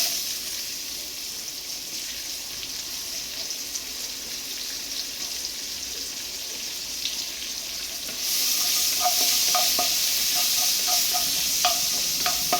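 Onions and curry leaves fry in a pan for a chicken spicy masala, a steady close sizzle that jumps louder partway through, with faint scraping stirs over the hiss.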